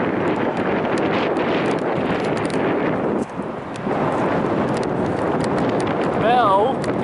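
Strong wind blows at a railroad crossing, buffeting the microphone with a constant loud roar that dips briefly midway and then resumes.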